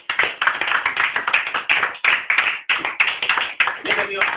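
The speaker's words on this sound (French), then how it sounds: "On acclame le Seigneur." Congregation applauding the Lord at a church service, a dense burst of many hands clapping steadily and loudly throughout, with a brief dip in the middle.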